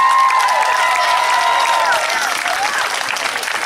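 Audience applause fills a school concert hall, a dense, steady wash of many hands clapping close and loud, with a few cheers and murmurs running through it.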